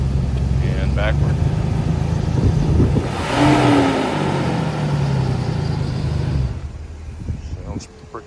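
An auction car's engine runs with a close, steady hum while it is put in gear and moved forward and back, with one brief rev in the middle, under someone talking, before it fades near the end.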